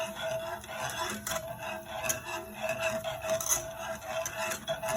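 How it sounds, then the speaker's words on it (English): A whisk scrapes and rubs continuously through mac and cheese sauce ingredients in a pot, a steady close rasping stir with small scratchy accents and no talking. "So here I'm just whisking all the ingredients together to combine them."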